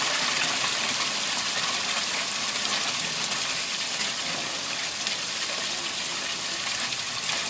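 Water pours steadily down a pump-fed Color Falls garden water feature, a loud, continuous rushing gush close by with no break or voices throughout.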